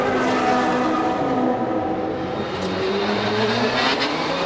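Ferrari and McLaren supercars racing at Spa-Francorchamps near La Source hairpin, the Ferrari on worn Dunlop tyres; loud continuous engine roar with shifting revs and tire noise, no voices.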